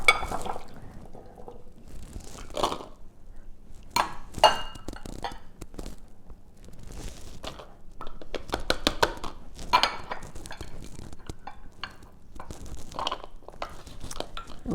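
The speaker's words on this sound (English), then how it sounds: "Really having to push these veggies down." Vegetables for beef stew being pushed down into canning jars, giving irregular clinks, taps and soft scraping of glass and utensils at close range, with no talking.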